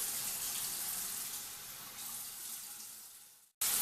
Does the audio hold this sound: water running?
yes